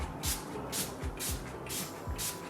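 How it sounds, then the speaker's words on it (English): Makeup setting spray misted over a face: five short, airy pumps at an even rhythm, each a soft close hiss with a faint click, against a quiet room. "I'm also just gonna set it with some setting spray."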